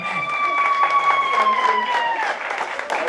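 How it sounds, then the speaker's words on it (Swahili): Loud applause and high, sustained ululation for the children at a Tanzanian kitchen party, the trilling cries holding steady over the clapping before fading near the end. "Vigeregere jamani na makofi kwa watoto wetu"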